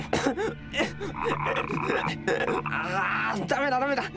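A frog croaks in the video game ENA Dream BBQ, producing a run of throaty, gurgling croaks followed by warbling, wobbling tones, close and fairly loud.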